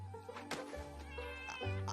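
Cartoon cats in a My Little Pony episode meow and caterwaul in a few short, clear, fairly close cries against a quiet background.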